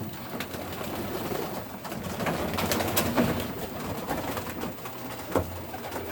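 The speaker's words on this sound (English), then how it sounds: "Time to feed the birds." Young racing homer pigeons in a loft coo softly and repeatedly, soft murmuring calls over a light background rustle with occasional sharp clicks, no talking.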